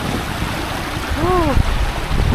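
River water rushes steadily nearby in a constant broadband wash, with a brief voice rising over it around the middle.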